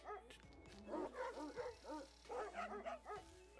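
A dog barking in the puzzle video game Bokura, a series of repeated, bright yelping barks in an even rhythm over a steady low game backdrop.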